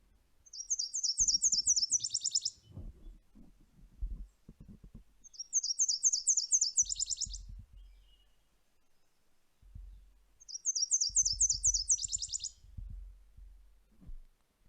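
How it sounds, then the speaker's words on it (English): Nashville Warbler song played from a phone birding app held to a microphone: three repeated two-part phrases, each a slower series of high notes followed by a quicker trill, with low handling noise between them. "I'm going to play the one from the Sibley app and just put it up to the microphone."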